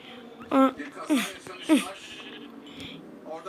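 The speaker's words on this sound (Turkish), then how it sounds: "Aa koyun." Sheep in the Craftsman survival game give three short, close bleats in quick succession, with a voice talking quietly beneath them.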